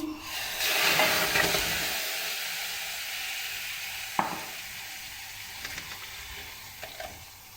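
Meat hits a hot kadai with a loud, close sizzle that flares at first, then settles into a steady frying hiss, broken by a sharp metallic clink and a few faint spoon scrapes.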